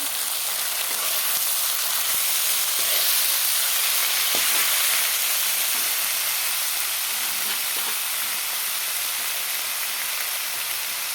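Tomatoes poured into hot oil in a pan for a tilapia and potato curry give a steady, dense sizzle that holds evenly throughout, close and fairly loud, with no voices.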